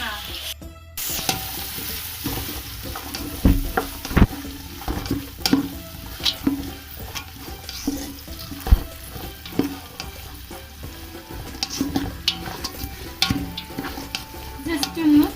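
Three sliced onions fry in plenty of sunflower oil for chicken kabsa rice, a steady sizzle broken by repeated scraping and stirring clatters of a utensil against the pan.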